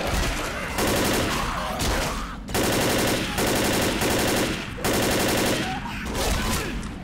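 Rapid automatic gunfire in a video game rattles out in three long loud bursts separated by short pauses, close and harsh with dense repeated shots.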